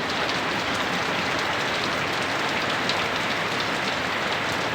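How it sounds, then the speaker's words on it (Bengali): Heavy rain and hail fall hard and without pause, a dense, even roar of impacts close by, with nothing else audible. "কেমন ভাবে শিল পড়তেছে, শিল দেখে তো আমি অবাক। যেমন বৃষ্টি তেমন শিল"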